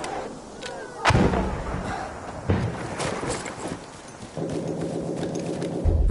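Artillery shells in the video game Battlefield 1 land as heavy booming blasts, three separate impacts spaced a second or more apart over continuous battlefield rumble and debris noise.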